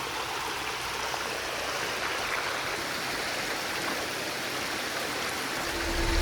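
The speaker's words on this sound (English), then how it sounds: "Look at this, it's literally a flowing river." Water rushing like a river over a mountain pass road at Telkwa Pass, a steady broadband wash of flowing water filling the scene, close and continuous, rising slightly in loudness at the end, with no talking.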